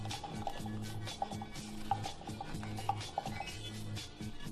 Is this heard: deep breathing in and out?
no